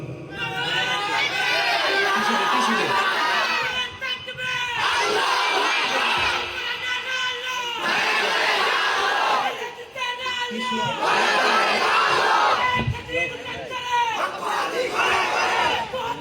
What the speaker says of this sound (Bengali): আপনার মাঝখান থেকে একজন একটা তাকবীর দেন না, দেখি আপনাদের পাওয়ারটা কতটুকু।